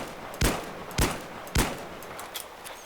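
Three sharp pistol shots fired at a wall in Battlefield 3, evenly spaced about half a second apart, loud and close, each with a short decaying tail, followed by faint softer clicks.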